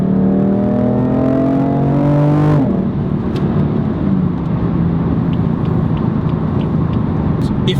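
A BMW M4 Competition LCI with M Performance Parts accelerates hard on a small road, the loud engine note climbing through rising gears before settling into a steady, heavy road roar inside the cabin.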